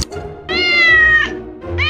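A cat meows twice, the first a long drawn-out cry and the second a shorter one, close and clear against a quiet background.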